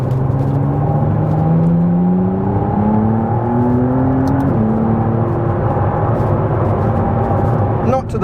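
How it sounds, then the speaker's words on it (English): A 2023 McLaren Artura driving over a rough concrete block road, with a loud, steady engine drone and rising, shifting tones under constant road rumble and vibration, close up from inside the car. "There is a bit of wheel shuddering going on, vibrations just on this rough road."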